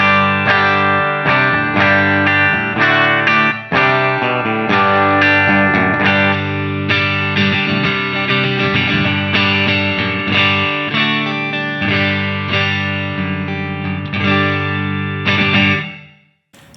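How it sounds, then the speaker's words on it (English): An electric guitar plays through a big amp with the compressor backed off, distorted, effects-laden chords and riffs ringing loud and close before the last chord is cut off near the end. "Now I'm just gonna back the compressor off a bit and bring the volume up a touch, just so you get that sound with a bit less compression."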